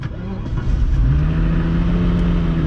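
A supercar engine fires up and settles into a loud, steady, deep idle with a rising growl, heard up close with no talking.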